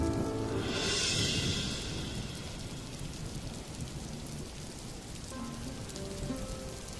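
Heavy rain pours steadily in a stormy downpour, swelling louder over the first two seconds before settling into a dense, even roar.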